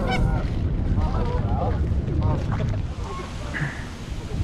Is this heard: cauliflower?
no